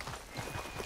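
Horse hooves clip-clop in Red Dead Redemption 2, a faint, quick rhythm of soft thuds lasting under a second against a low background hum.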